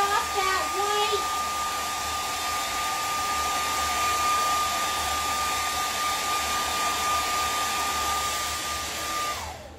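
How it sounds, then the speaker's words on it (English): A hair dryer blows steadily at close range for about ten seconds, drying white paint on a canvas, a constant loud whirring hum with a high whine that cuts off abruptly at the end. "we're going to give it the dryer"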